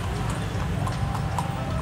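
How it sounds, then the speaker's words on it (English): Horse-drawn carriages on a street in Yogyakarta, Indonesia, with hooves clip-clopping in a quick, regular rhythm over a busy traffic and street-noise background, moderately close. "Really curious why there are so many horses here, so many horse carriages."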